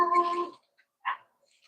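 Dogs indoors let out a drawn-out whimpering whine followed by a short, sharp yip, close by and heard on their own without speech.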